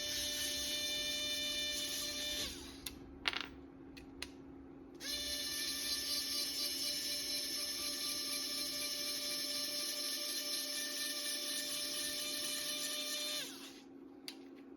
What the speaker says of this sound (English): Definitely not the quietest little drill, but it works very well.